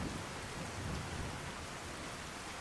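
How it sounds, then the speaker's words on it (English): Dense, steady hiss of heavy rain with a low rumbling undertone of thunder in a Fallout 4 storm, continuous and enveloping with no voices. "this is the real storms. Look at this storm."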